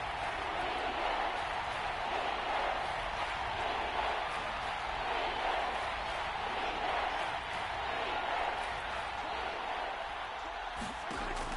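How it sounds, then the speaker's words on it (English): A packed football stadium crowd roars to urge on their defense, a dense, loud and sustained wall of cheering and shouting that holds steady throughout, with a commentator's voice faintly beneath it. "This crowd urging on their defense."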